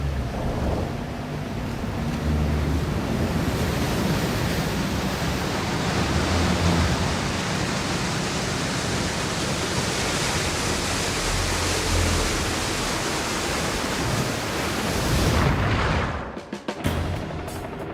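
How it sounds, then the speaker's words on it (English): A wall of seawater engulfs a sinking aircraft carrier in a dense, continuous roar of rushing water and wind-like noise lasting many seconds, loud throughout before breaking up at the end. "a wall of water engulfs the ship"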